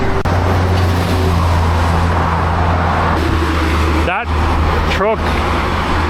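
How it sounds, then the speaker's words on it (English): A truck passes very close on a road between Bangkok and China amid loud, constant roadway and wind rumble, with two quick whooshing swells near the end as large vehicles rush past. "That truck nearly took me out."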